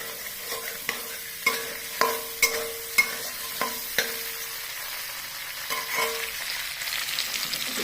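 Cumin seeds and asafoetida frying in hot oil with a soft sizzle underneath, while a utensil knocks and scrapes the pan in a run of distinct strikes, then stirring settles into steadier frying.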